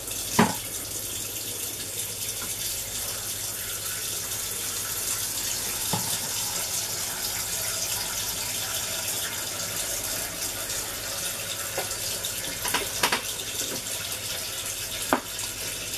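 Hot water runs steadily from a tap in a kitchen, a constant rushing hiss with a few clinks and knocks over it, no talking.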